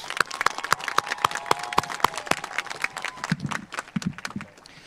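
Audience applause for student speakers at the Oakcrest 2025 graduation ceremony, a dense spread of claps with a few sharp loud ones, thinning and fading out toward the end.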